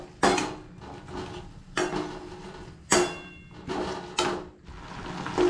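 Spices for a bottle gourd greens and prawn dish are stir-fried in a pan, heard as repeated sharp scraping clanks of a utensil against the pan, roughly five distinct strokes at irregular intervals with quieter frying between them.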